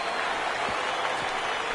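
A stadium crowd in MLB The Show 19 applauds during an afternoon baseball game, a steady, dense wash of clapping and cheering filling the whole stretch with no break.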